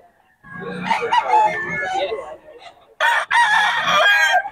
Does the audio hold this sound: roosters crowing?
yes